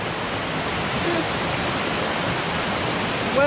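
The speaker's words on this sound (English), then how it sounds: "We are now crossing this river." Steady, loud broadband rush of river water beside a waterfall in Lebanon, continuous and unbroken throughout with no voices over it.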